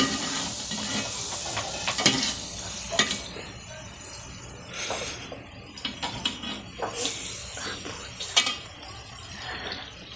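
Medu vada frying in hot oil, a hissing, bubbling sizzle with irregular crackling bursts and occasional utensil clinks, close and moderately loud.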